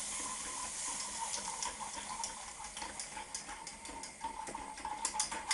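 About half a pint of milk poured steadily into a pan for a lasagne white sauce, a continuous close liquid splashing and trickling with faint clinks, no talk.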